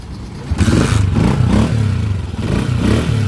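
A Honda CG 125 motorcycle engine with its original silencer runs close by, a loud throbbing idle that swells with a rev partway through, with some rattling clatter.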